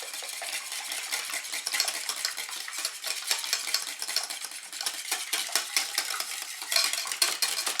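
Muffin batter of olives, bacon and oil being stirred in a bowl, a close, continuous run of wet, scraping strokes with soft utensil clicks in a loose, uneven rhythm, with no voices.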